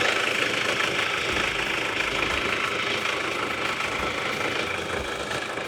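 A Delica's 2.8 litre turbo diesel engine idles close by with a steady, even rumble and a faint knocking clatter, running alone without any talk.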